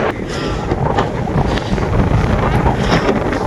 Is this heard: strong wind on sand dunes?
yes